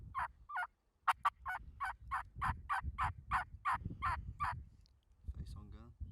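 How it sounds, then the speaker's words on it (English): Young wild turkeys yelp in a long, rhythmic series of sharp, evenly spaced calls, moderately near, during turkey season, with low murmured voices and rustling underneath. "I hear those jakes yelping"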